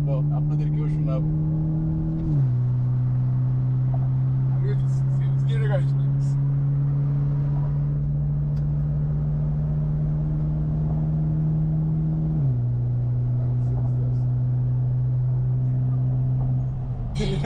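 Mitsubishi Evo X with a twin-clutch SST gearbox on a morning drive, its engine droning steadily with a couple of shift-like pitch drops, while people talk over it inside the car.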